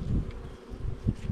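Black bees buzzing at an open hive, a dense, continuous low hum close by with slight swells in loudness and no voices.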